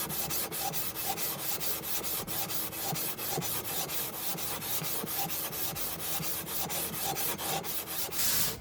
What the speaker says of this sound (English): you could also hear it, that the sanding sound changed